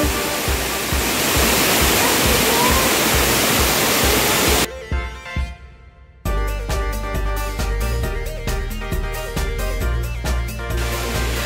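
Waterfall at Ng Tung Chai in Hong Kong, a loud steady roar of falling water that cuts out briefly partway through before returning with a different tonal texture.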